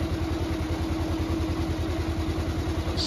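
A 1907 Darracq AX car engine chugs steadily uphill in a fast, even low thumping pulse, loud and close, with no talk over it and no clear splutter yet.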